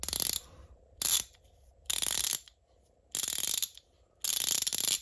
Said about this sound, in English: And these are 72 tooth ratchets.